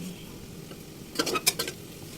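Bitter gourd and potatoes stirred in a frying pan, a faint low sizzle broken by a short cluster of scraping and clinking spatula strokes near the middle.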